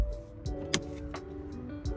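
Lexus 2024 TX350 interior door latch pulled for emergency manual release: a few short mechanical clicks and clunks, close by, over a steady low hum.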